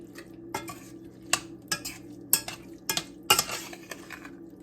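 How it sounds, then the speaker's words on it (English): Metal utensil stirring taco pie filling made from home-canned beans and corn in a pot, with irregular scrapes and clinks against the pot over a low background hum. No one speaks. "sorry about the scraping"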